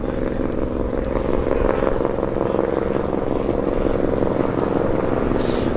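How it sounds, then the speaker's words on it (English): A Helijet helicopter coming in to land at Vancouver Harbour, a steady rotor thrum and engine drone held at even loudness with no talking. "we have a helijet coming in"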